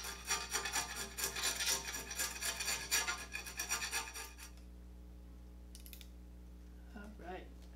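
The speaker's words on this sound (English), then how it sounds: "It took me all day, but scraping the paint is basically all done." Old paint being scraped off a Greenerd No. 3 arbor press, a steady close rasping and rubbing with dense repeated strokes for about four seconds, then near quiet with a few faint clicks.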